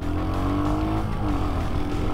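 Royal Enfield Hunter 350 motorcycle engine revving steadily up close, a loud continuous harmonic drone with a rising and then falling pitch, heard alone without voices.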